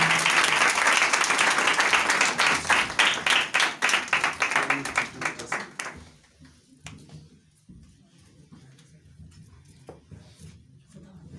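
Audience applause at a Christian gathering: loud, dense clapping for about five seconds that thins into scattered claps and fades into quiet room noise with faint voices.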